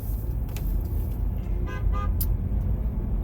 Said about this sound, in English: Honk. Honk, honk.